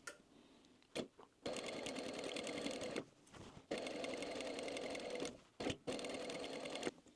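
A sewing machine stitches a zipper with contrasting thread in quick mechanical bursts, running about a second at a time with short pauses between runs, close and fairly quiet with no talking.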